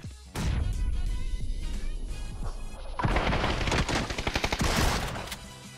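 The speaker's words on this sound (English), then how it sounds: "So the DBS has a high burst damage when close, but since it is a shotgun" A DBS double-barrel shotgun in PUBG fires in a rapid series of sharp, loud blasts. An early single crack is followed by a dense, crashing volley of shots with clattering impacts in the later half.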